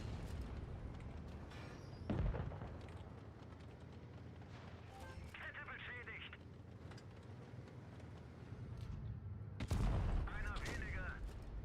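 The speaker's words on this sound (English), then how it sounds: "We are going to contest this VK by shooting his upper plate." World of Tanks Blitz tank gunfire aimed at a VK's upper plate, with two heavy low cannon booms several seconds apart over a faint engine rumble and quieter battle sounds.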